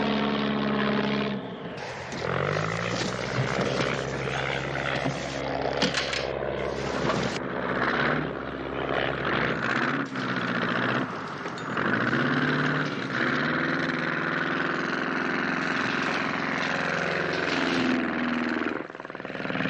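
A propeller airplane engine drones loud and close during an attempted landing, its pitch shifting as the throttle is worked, with steady rumble throughout and no talk.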